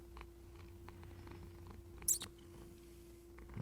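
A cat purrs softly and steadily nearby, with one brief sharp noise partway through against a quiet room hum.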